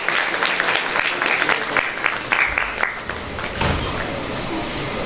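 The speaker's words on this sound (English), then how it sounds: "A huge round of applause for every one of us." Applause fills a hall at a literary festival, a loud, continuous crowd clapping that holds steady with scattered thumps and bumps breaking through near the end.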